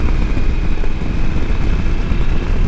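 A KTM 890 Adventure R engine drones continuously while riding, loud and steady with heavy wind rush and no voice over it.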